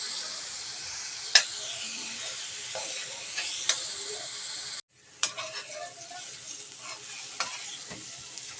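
Chopped onions sautéing in a pan while making homemade shrimp paste (bagoong), a steady broadband sizzle with occasional sharp stirring clicks and scrapes, close and alone without talk.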